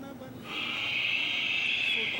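A long, steady exhaled breath through the nose or mouth as a yoga forward fold is made from the hips, breathy and sustained after a brief quiet start, fairly close.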